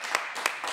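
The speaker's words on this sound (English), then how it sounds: "I need everybody in here to clap it up one time." A podcast studio audience claps in three quick, sharp bursts, close and brief.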